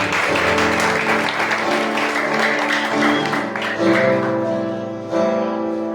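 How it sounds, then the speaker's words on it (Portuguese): A church congregation applauds at the close of a sermon, steady dense clapping over sustained organ or keyboard chords that shift midway, loud and continuous throughout. "Aplausos, Senhor."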